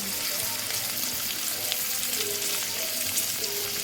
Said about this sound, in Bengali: হালকাভাবে ভেজে নেব এক পিট হয়েছে আর এক পিঠ অগ্নি করে উল্টে উল্টে ভাজা